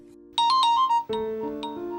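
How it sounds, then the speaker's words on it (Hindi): A short electronic ringtone melody plays over a steady tone, loud and close, with bright repeated chiming notes. "किसी का फोन आ रहा है।"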